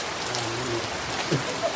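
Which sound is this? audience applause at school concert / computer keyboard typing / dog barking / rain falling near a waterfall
rain falling near a waterfall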